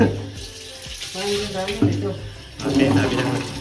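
Water pours from an opened tap at a rented room in Siliguri, a fairly close, continuous splashing that rises and falls while voices talk over it.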